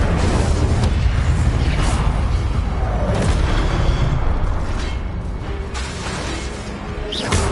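A fire spell cast in a Harry Potter video game on PS4, heard as a dense, continuous roaring whoosh with crackling bursts that stays loud throughout.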